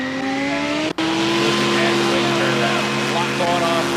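A racing aircraft, Yeehaw 6, roaring past at the national championship air races, a loud, steady engine drone with a sustained droning tone and a brief cut near the start, heard alone and up close.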